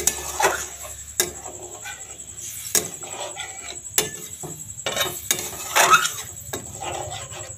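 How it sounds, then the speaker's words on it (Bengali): Water poured into fried spice paste in a pan for a Bengali dahi potol curry, with a few sharp clanks of a spoon against the pan over a low, steady sizzle; no voices. "এবার আমি একটু কিছুটা পরিমাণ জল দেব, খুব বেশি জল দেবো না।"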